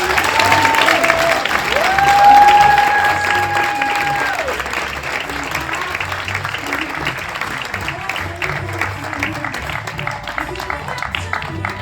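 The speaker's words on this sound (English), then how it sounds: "Please, let's give her a round of applause." A gala audience bursts into loud, sustained applause with some cheering and a whistle as an honoree is invited to the stage to accept an award, swelling early and then holding steady before slowly easing.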